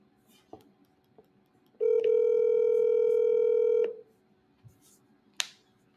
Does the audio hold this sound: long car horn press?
no